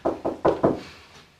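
Four firm knocks on a door in quick succession, close and fairly loud, followed by a short fading room tail with no talk.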